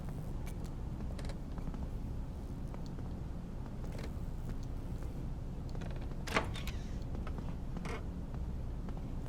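A door creaks open slowly in the horror game Colina: Legacy, a faint drawn-out groan with a few brief squeaks over a steady low ambient hum, and no one speaking.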